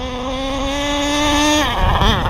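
High, buzzing whine of an AquaCraft Top Speed 3 radio-controlled boat with a K&B 7.5cc glow engine, holding a steady pitch before dropping and wavering as the throttle comes off.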